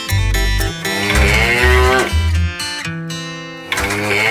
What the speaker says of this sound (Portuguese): Clique no bicho que faz mu.